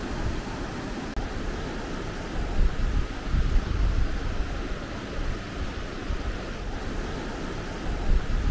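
River water rushing in a steady, unbroken wash beside the route to Chilam near Astore in Gilgit-Baltistan, fairly close and continuous, with no voices over it.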